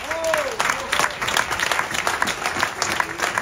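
Audience applause at a live stage show, steady clapping from a crowd that fills the whole stretch at an even level, with a voice briefly audible over it near the start.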